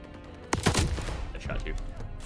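Several gunshots crack out in quick succession in Call of Duty Vanguard multiplayer, starting with a loud burst and followed by lighter shots and game noise, with some talk mixed in.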